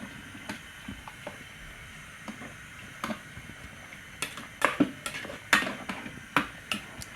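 A spoon stirs catfish pepper soup with scent leaf in a pot, giving sparse, irregular metallic clinks and taps that grow louder and more frequent toward the end over a quiet simmering background.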